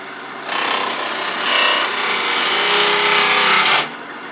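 A parting tool makes a peeling cut in soft wood, giving one steady, loud, raspy scraping hiss that lasts about three seconds and then stops abruptly.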